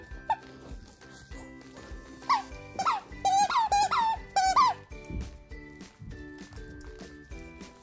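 A pitbull plays with a squeaky dog toy, setting off a quick run of loud, close, high squeaks in bursts, with a few single squeaks before and after.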